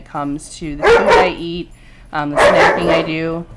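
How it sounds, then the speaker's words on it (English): Pet dogs playing together in a home, giving short yips and barks in the background beneath someone speaking steadily in the foreground. "Pardon my dogs in the background, they're playing with each other."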